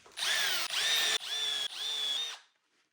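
A power drill bores pilot holes into wood for a wall cabinet, four quick whirring bursts in a row, close and clear, then stops.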